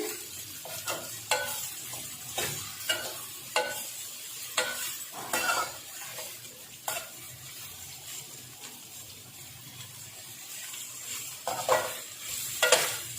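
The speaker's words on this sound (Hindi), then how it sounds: "उनको हम अच्छी तरह से फ्राई कर लेंगे। ऑयल हम ज़्यादा नहीं लेंगे," Chicken and vegetables, with boiled carrot and bell pepper, stirred and fried in a small amount of oil in a pan, giving a steady soft sizzle broken by repeated scraping stirs at an irregular rhythm, close by.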